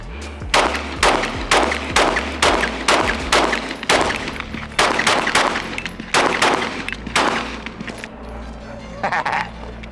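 Rapid pistol shots from an FN 509 Tactical with threaded barrel, a quick string of sharp loud cracks fired in steady succession, echoing at an outdoor range.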